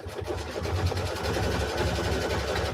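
Sewing machine stitching the corner of a quilt block, a steady rapid mechanical chatter with a low motor hum, close and continuous.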